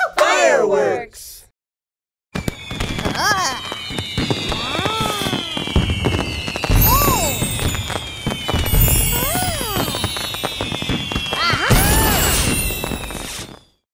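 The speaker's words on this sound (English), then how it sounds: "Fireworks are colorful explosions in the sky that are used to celebrate something special or fun." Fireworks sound effect from the Endless Alphabet video game: a rushing launch whistle, a brief silence, then a long stretch of loud crackling bursts and whistling rockets overlapping one another.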